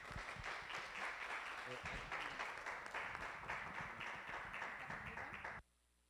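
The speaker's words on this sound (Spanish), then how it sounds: "le damos un aplauso" Steady, full conference audience applause before a keynote lecture, with dense clapping throughout, loud and sustained before cutting off abruptly at the end.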